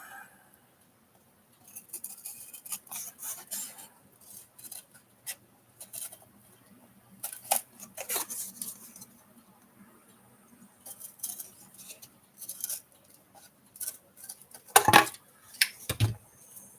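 Scraping, tapping and cutting noises from a box part being cut off on a workbench, with irregular close bursts of rustling and clatter and a few louder knocks near the end.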